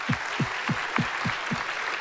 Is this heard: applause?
yes